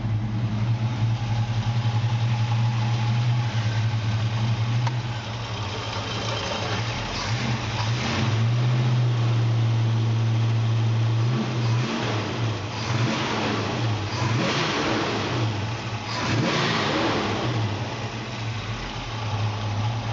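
A 1956 Chevy pickup engine starts and runs, holding a steady, smooth idle with a couple of rising revs partway through, close and loud throughout.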